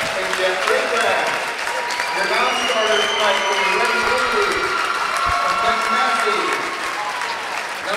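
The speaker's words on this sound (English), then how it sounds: "Listen to this crowd go. Wild here at Clinton-Massie side." A high school crowd on the Clinton-Massie side cheers and applauds during girls' tournament basketball introductions in a gym, sustained loud clapping and shouting with voices talking over it.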